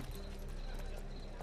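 Horse hooves clip-clopping in The Witcher 3 video game, a steady quick rhythm over constant game ambience and music, with someone talking over it.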